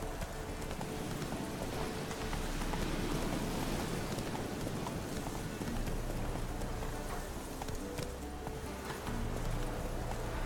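Horse hooves galloping in The Witcher video game, a dense rapid clip-clop under a noisy rain-like hiss, steady and fairly faint.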